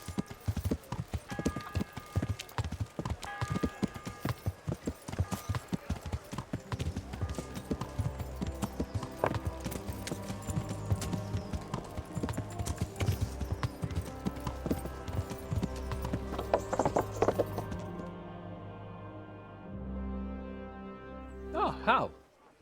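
A horse's hooves clip-clop steadily in Kingdom Come: Deliverance, a dense rhythmic trot layered with game music and ambience that slows and fades near the end.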